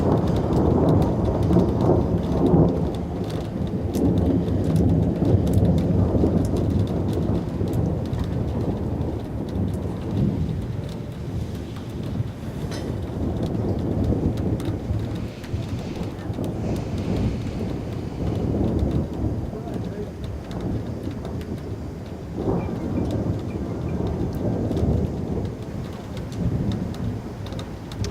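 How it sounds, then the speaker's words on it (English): Heavy thunderstorm over a Manchester cricket ground, with torrential rain pouring steadily throughout and deep rolls of thunder rumbling repeatedly, loud and continuous with no voices. "That noise you can hear is thunder,"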